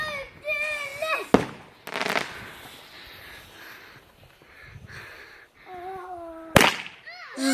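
Missile-type fireworks set off outdoors, with sharp whistling launches rising in pitch and loud bangs, separated by quieter stretches and background voices of people watching.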